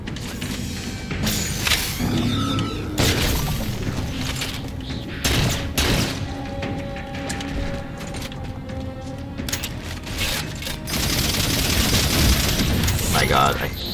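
Gunfire from a Halo 4 Legendary campaign fight, Needler shots mixed with bursts and thuds, sustained and busy across the whole stretch with loud dense volleys, a player's voice talking over parts of it.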